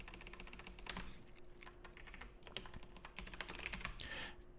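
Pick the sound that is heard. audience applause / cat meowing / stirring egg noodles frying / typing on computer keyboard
typing on computer keyboard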